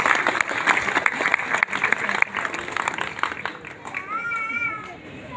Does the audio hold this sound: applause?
yes